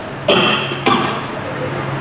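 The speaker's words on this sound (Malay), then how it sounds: "Panjang sikit batuknya." Two short coughs ring out close by, a sharp one followed by a second about half a second later, over a low background hum.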